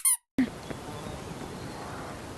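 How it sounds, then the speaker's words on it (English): Duck quack sound in the VR game Animal Company: a brief, bright squeaky quack at the very start, followed by a short silence and then continuous hissy room noise with no talk. "Use the duck sound you say, so I'll just quack."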